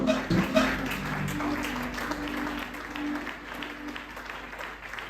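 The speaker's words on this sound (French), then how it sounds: "Acclamons très fort de Jésus." A church congregation at a Sunday service breaks into applause, a dense wash of clapping from many hands in a hall that stays steady and then slowly fades, with some voices mixed in.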